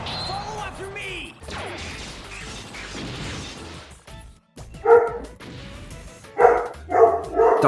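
A dog barks in short loud bursts near the end, several sharp barks close by, following a stretch of video game action noises and crashes with voices talking.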